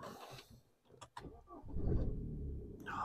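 A BMW 1 Series car engine is cranked and fires up, its starter whirring briefly before the motor catches into a steady, close idle rumble that grows fuller over a few seconds.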